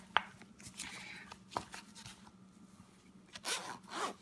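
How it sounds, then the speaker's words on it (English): Dual zipper on a Goal Zero Venture 30 solar kit case is pulled along in several rasping runs, close and fairly quiet, with brief gaps and handling rubs between strokes. "The dual zipper is kind of a neat feature as well"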